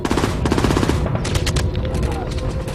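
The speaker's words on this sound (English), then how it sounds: "they are now taking fire from concealed machine gun positions" Rapid bursts of machine gun fire from concealed positions in a WW2 D-Day battle, loud and continuous with repeated staccato volleys over dense battlefield noise throughout.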